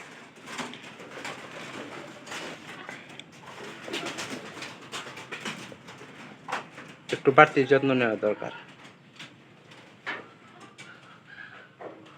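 Someone talks over a low background while a sick carrier pigeon gives a brief burst of rolling coos near the middle, then talking continues.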